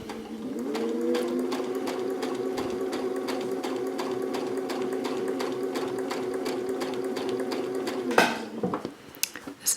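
A sewing machine stitching quilt binding on a placemat with a quilt binding foot, a fast steady mechanical whir with rapid needle ticking running for about eight seconds, then stopping with a few clunks and handling sounds.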